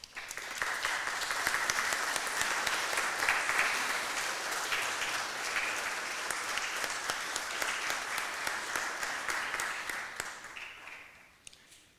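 Graduation ceremony audience applauding steadily in a large hall, dense sustained clapping with some cheering that fades out toward the end.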